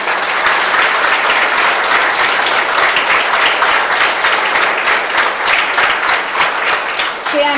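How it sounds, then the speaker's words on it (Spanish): Loud, dense, sustained applause from a large crowd at a primary school's start-of-year ceremony, with hundreds of overlapping claps blending into a continuous roar. "un fuerte aplauso para cada uno de ustedes"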